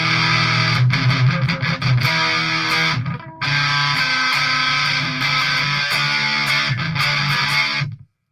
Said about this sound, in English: now this is with the hot rod distortion